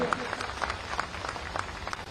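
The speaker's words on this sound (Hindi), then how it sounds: "तालियां बजा के धन्यवाद तो दीजिए" A crowd applauds at a political rally with steady, dense clapping mixed with a few louder, sharper claps, sustained throughout at moderate volume.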